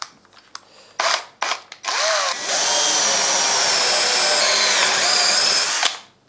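A power drill bores into guitar body wood for a pickup cavity, with short bursts first, then a loud, sustained whining bite through the wood at close range before spinning down.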